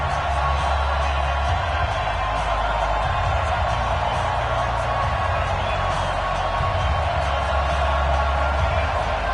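A stadium crowd roars steadily in an EA Sports NFL video game, Carolina Panthers versus Atlanta Falcons, as a dense, loud, continuous wash of cheering with no breaks.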